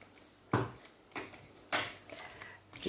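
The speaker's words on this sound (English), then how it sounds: "Give that a little stir." A spoon stirs lamb and onions in a cooking pot for Jardaloo Ma Gosht, giving three or four short scraping, clinking bursts against the pot with quiet gaps between them.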